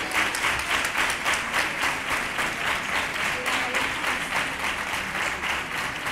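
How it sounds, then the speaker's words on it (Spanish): An audience at a Three Kings proclamation event in Nerva applauds, a continuous full crowd clapping that holds steady throughout, no talk standing out. "Fuerte el aplauso para ella."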